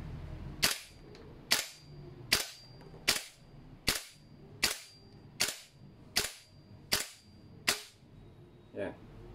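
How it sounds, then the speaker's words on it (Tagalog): A G&G MGCR 556 airsoft gas blowback rifle fires rapid semi-auto, eleven sharp loud cracks in an even, quick rhythm about every 0.8 seconds, the last shot weaker as the gas runs out. "Okay, so let's go back to semi-auto. Bibilisan ko yung putok dito hanggang sa maubos"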